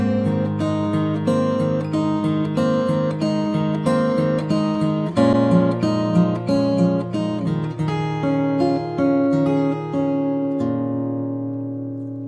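Acoustic guitar plays a fingerpicked song intro in G: steady plucked notes over ringing bass, close and clear, with no voice, fading out at the end.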